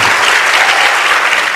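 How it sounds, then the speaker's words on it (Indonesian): A dense wash of audience applause after a speech by Anies Rasyid Baswedan, steady and loud throughout the short stretch with no voices over it. "Tepuk tangan."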